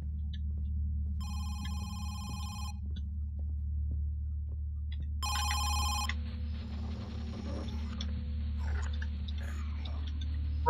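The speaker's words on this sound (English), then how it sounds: "My phone's ringing." A phone rings in the horror video game Home Sweet Home, two bursts of electronic ringing over a steady low ambient hum, followed by faint clicks and rustles.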